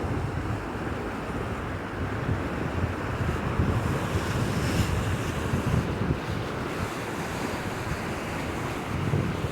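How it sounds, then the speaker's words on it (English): Floodwater of the Manuel River rushing hard around a bend and slamming against a footpath, a loud steady roar of churning water with gusts of wind buffeting the microphone throughout. "The river comes down to a bend like this and it's smacking right into that path."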